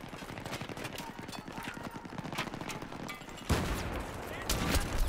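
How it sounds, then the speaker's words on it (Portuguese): A grenade goes off right beside the player in Battlefield 3, landing as a sudden loud burst over a rapid clatter of nearby gunfire, with a second blast following shortly after. "Essa granadinha que explodiu no meu lado fudeu com tudo"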